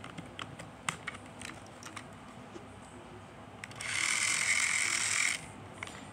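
A Trackmaster Paxton toy train's motor whirs noisily with a buzzing mechanical rattle for just over a second near the end, after several soft clicks and handling taps.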